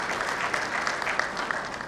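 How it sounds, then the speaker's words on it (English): Brief burst of audience applause at a golf tournament prize ceremony, dense, even clapping from a crowd, moderately loud and steady. "This is the second round of applause."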